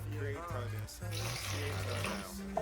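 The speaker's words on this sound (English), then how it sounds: "Oh, maybe I need to take just a little bit more water off." Water running from a tap as some is poured off a jar holding garlic roots, a steady rush heard under someone talking throughout.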